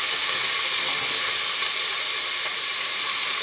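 Garlic and curry leaves sauté in a pan with a loud, constant hiss, like steam or sizzling oil, filling the whole stretch evenly and close by without talk.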